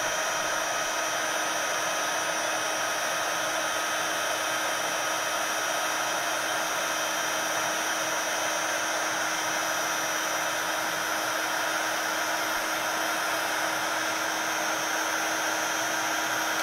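A heat tool runs in one steady, loud whirring blow, melting thick brushed embossing medium on a craft envelope card, holding an even hiss with no breaks and no voices.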